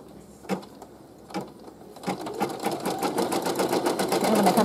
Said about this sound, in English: I'm going to go ahead and put my foot down and hit embroider on my screen.